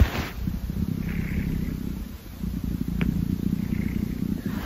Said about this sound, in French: on entend qu'elle ronronne surtout